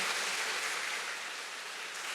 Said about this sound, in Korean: 우리 율동부께 큰 사랑의 박수 다시 한번 보내주십시오